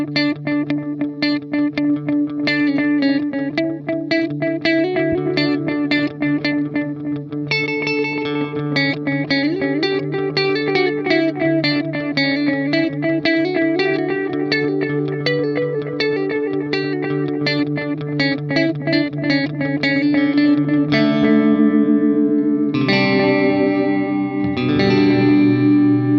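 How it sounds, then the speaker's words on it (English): Electric guitar run through a Wampler Terraform phaser placed in the effects loop of a JPTR FX Fernweh, playing continuous strummed and picked chords with a sweeping, swirling phase tone, loud and steady with no talking. "I'm going to use a phaser from this guy, put it in the effects loop, and see what kind of really cool sounds I can get out of it."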